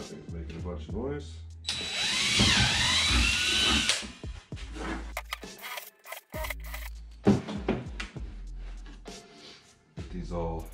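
A power drill whines loudly for about two seconds while boring holes in a DIY kayak crate for rod and tackle storage. Someone talks before and after the burst.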